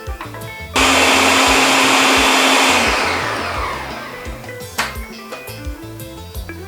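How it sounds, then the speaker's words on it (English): A blender whirring loudly as it mixes Haitian kremas ingredients with cinnamon and nutmeg, switching on abruptly to a steady high roar that winds down after a couple of seconds, followed by quieter background music. "again, we're just going to combine that in the blender"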